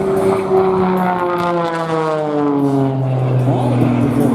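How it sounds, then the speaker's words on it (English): An aerobatic airplane performs rolls on a downline at an airshow, a loud nearby engine drone with falling, Doppler-like pitch sweeps, and a voice talks over it. "A little blistering set of aileron rolls coming back down"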